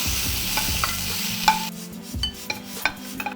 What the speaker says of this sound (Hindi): इन सबको आप हल्के सौते करेंगे और ज़्यादा देर फायर पे नहीं रखेंगे